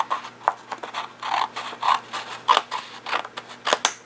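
Rapid snipping and rasping sounds of scissors trimming the ends of an envelope, close and crisp, in a quick irregular run of short bursts with no talking.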